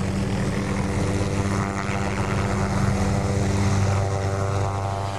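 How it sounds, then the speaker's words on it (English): Helicopter rotor blades roar steadily and loudly overhead in morning air in Moscow, during restringing of power transmission lines on rebuilt towers after a tornado, a continuous throbbing drone with no pauses. "The sound of helicopter blades roared through the morning Moscow air."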